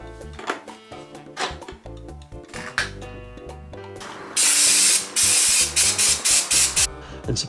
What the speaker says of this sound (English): this also needs to go outside for a session of brake cleaner